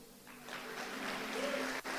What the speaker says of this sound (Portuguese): Ele merece um aplauso?